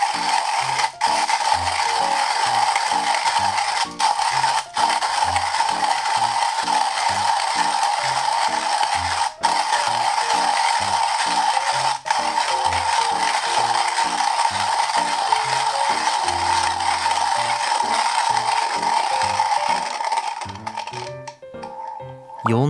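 A Comandante C40 hand coffee grinder crunches through beans, a steady close ratcheting grind with rhythmic clicks from the turning crank that continues for most of the stretch, then thins out near the end as the last beans pass.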